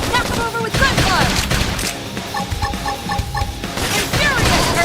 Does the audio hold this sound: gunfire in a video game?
yes